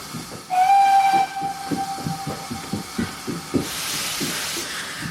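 A steam train whistle blows one long, loud, steady tone on a British railway line, standing out over the rhythmic chugging of the locomotive and ending in a burst of hissing steam.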